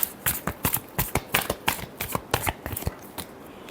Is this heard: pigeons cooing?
no